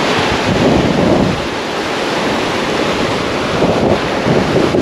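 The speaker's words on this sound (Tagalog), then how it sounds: "Makita nyo, may bagyo yata." Stormy wind buffets the microphone while surf crashes at a Real Quezon beach, a loud, continuous roar of wind and waves with no voices.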